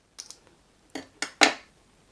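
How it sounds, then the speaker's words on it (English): Scissors snip thread on a handmade charm tassel, four quick, crisp close cuts with short pauses between them and the last one the loudest, no voice. "And then you can snip off anything."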